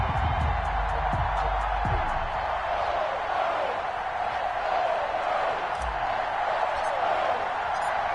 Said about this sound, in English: This crowd is ready as their guys get set to match up between the Atlanta Falcons